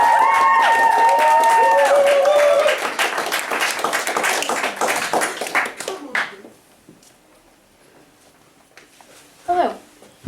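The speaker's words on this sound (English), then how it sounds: "Can we give her a round of applause" Audience applause and cheering for a spoken word poetry reader, loud and dense at first, then thinning into scattered claps and fading, with a few faint voices underneath.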